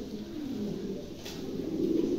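Maltese pigeons coo nearby in a low, steady, rolling murmur that continues unbroken and grows slightly louder toward the end.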